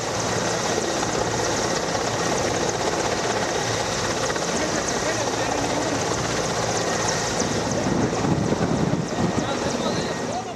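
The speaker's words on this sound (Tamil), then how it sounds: "அதற்கான ஒத்திகையில் சீட்டா ஹெலிகாப்டர்கள் தேசிய கொடி மற்றும் விமானப்படையின் கொடியை ஏந்தி" Indian Air Force Cheetah helicopters in an air show rehearsal over Chennai's Marina beach give a loud, steady rotor roar throughout, mixed with wind buffeting on the microphone.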